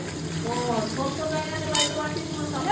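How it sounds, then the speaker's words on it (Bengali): A steady, close sizzle of onions frying in a pan, with faint clinks of a utensil and a brief voice in the background. "পেঁয়াজ ভাজা হচ্ছে"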